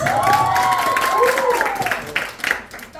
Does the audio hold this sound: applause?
yes